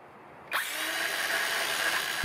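A Ryobi 5.5-inch battery-powered circular saw cuts a dado across a wood board, starting abruptly and holding a steady, close, loud whine for about two seconds. No one speaks.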